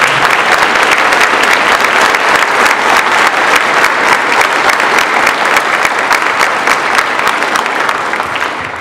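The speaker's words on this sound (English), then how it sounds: "So please give them all a round of applause." Audience applauding after a school play, a dense, steady wash of many hands clapping close and loud for the full length, easing slightly at the very end.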